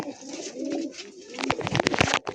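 Andhra fulsira tiplar pigeons give a low rolling coo up close, followed by a burst of flapping and clattering movement.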